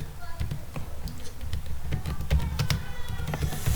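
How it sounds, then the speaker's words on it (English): Computer keyboard keys tapped in quick irregular bursts while writing a database delete command, close and clear, with a low background rumble underneath. "So just I am going to type here"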